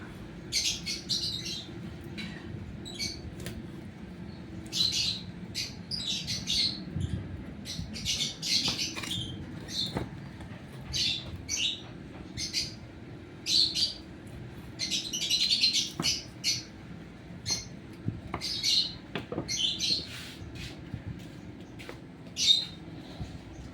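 Pet birds kept at home chirp and squawk in busy, overlapping bursts of high tweets over a low, steady background hum, moderately close and continuous throughout.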